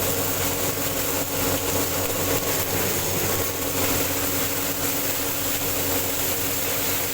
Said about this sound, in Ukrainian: на тракторі.